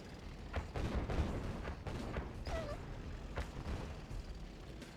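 Tank battle gunfire from Red Alert 2, a run of repeated impact bursts and booms stacked densely over a steady rumble, with short sharp reports and a brief tonal effect midway.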